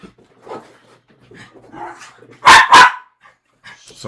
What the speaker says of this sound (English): Sorry about the barking, everyone.